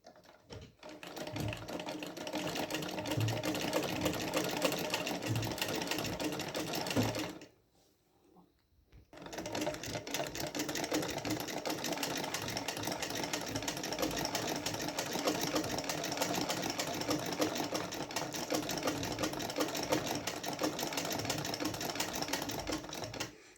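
An ordinary domestic sewing machine stitching round-stitch embroidery runs in a steady, close mechanical chatter, pausing briefly for about two seconds before resuming at the same even pace.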